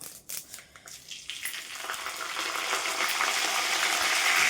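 Cumin, mustard seeds and curry leaves hit hot oil in a heavy kadai, a rising crackling sizzle that builds and grows louder over several seconds, with no voices.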